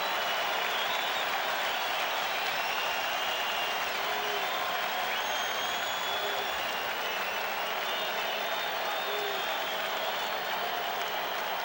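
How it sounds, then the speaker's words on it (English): Baseball crowd at Fenway Park applauding during the 1986 World Series, a steady wash of distant clapping and crowd noise that holds evenly throughout with faint calls rising above it. "the crowd asking Henderson, Owen, and Boggs to do something"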